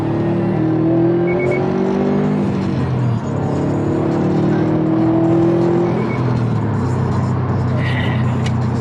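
Car engine revving hard under heavy acceleration at a race meet, loud and close throughout, with harmonic tones sweeping upward as it pulls, then dropping and climbing again near the end.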